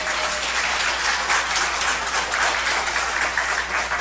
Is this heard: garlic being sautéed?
no